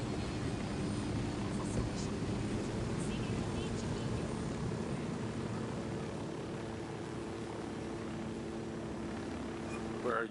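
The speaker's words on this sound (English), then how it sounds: "Flying helicopters on here is so much fun." A steady, loud rotor-and-engine drone of a helicopter in the game Ghost Recon: Wildlands runs without pause, close and unchanging, with faint voices occasionally beneath it.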